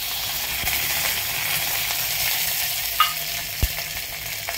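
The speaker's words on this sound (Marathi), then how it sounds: "आपण त्याच्यामध्ये लसूण आणि कढीपत्ता, लसूण कढीपत्ता मिरची घालून घेऊया." Garlic, curry leaves and chili hit hot oil with mustard seeds in a pan, giving a steady close sizzle and hiss with a few sharp pops and spoon clicks toward the end.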